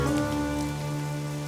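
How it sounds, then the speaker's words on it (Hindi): Heavy rain pours steadily, a dense continuous hiss of drops on a surface with a faint tonal hum beneath, and no voices. "बहुत तेज बारिश है।"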